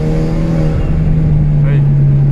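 An Alpine A110 fitted with a titanium exhaust, close by and loud, its engine holding a steady, strongly tonal drone with a brief rising rev near the end.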